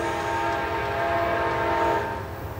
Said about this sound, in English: Amtrak P019 is coming southbound down here at Taylor's control point